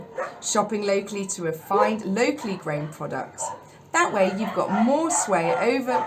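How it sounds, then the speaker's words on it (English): Several dogs bark and yip repeatedly in the background of a home, their loud, irregular barks running under and between someone talking continuously nearby. "Excuse the dogs barking."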